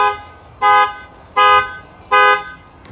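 Horn of a 2018 Ford F-150 blaring from its factory alarm with an added shock sensor, three loud evenly spaced honks about three-quarters of a second apart.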